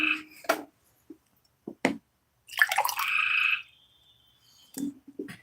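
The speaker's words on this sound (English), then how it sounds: "Let's get a horn of water ready." Water is poured into a drinking horn in a brief gurgling rush of about a second, with a few scattered knocks and clicks before and after.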